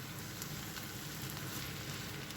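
Onions and tomatoes sizzle steadily in butter in a pan, a continuous close frying hiss with small crackles and no voices.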